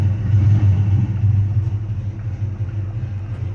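A 1984 Chevy C10 pickup's 350 V8 with a four-speed floor shift idles steadily, a loud, close low rumble with slight unevenness and no talk.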